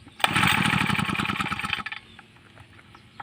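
A four-stroke lawn mower engine revs loud and close for about a second and a half, then cuts out abruptly and falls to a faint idle or rattle as it dies.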